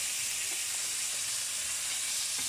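Two burger patties fry in a pan, giving a steady bright sizzle and crackle throughout, close and continuous with no talking.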